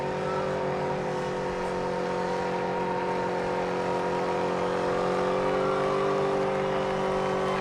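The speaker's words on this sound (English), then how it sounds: "gonna smoke down these tires, burn them down" A race car's engine roars at Irwindale Speedway during a tire burnout, holding a loud, sustained high-revving drone with steady tonal whine and only slight pitch shifts throughout.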